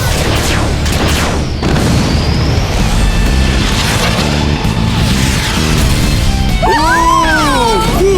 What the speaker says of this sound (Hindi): Rocket punch, fire!